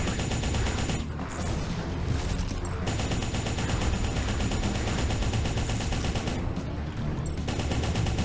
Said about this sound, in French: Du coup la mitraillette pour les petits comme ça